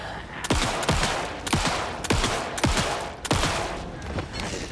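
Rapid, close gunfire in the survival horror game Alan Wake II: six or seven loud, evenly spaced shots ring out one after another, each with a sharp crack and short decay, and no talking.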